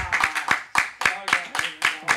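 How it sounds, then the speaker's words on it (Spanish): A small, sparse studio audience claps in uneven bursts, several short rounds of hand claps close by with brief gaps, mixed with faint voices. "Son pocos aplausos, pero ahí la gente está aplaudiendo más porque aquí este estudio no está muy lleno."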